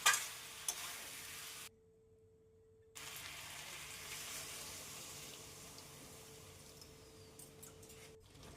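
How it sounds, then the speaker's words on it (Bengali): Chicken curry being stirred into its gravy in a pan, a steady soft scraping and wet sizzle with a brief quiet gap, then continuing alone at moderate level with a faint steady hum. "আমরা ততক্ষণ নাড়বো যতক্ষণ না সেটা পুরোপুরিভাবে গ্রেভির সাথে মিক্স হয়ে যাচ্ছে।"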